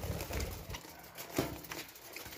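Male budgerigar in an aviary making soft, intermittent chirps and short calls, with a small burst of louder sound partway through and faint background noise.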